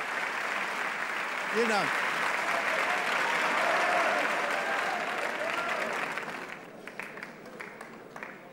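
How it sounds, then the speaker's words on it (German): Recorded studio applause played in on a TV show, a broad steady wash of many hands clapping that fades out after several seconds, with a voice briefly speaking over it. "der Applaus, den wir eingespielt haben"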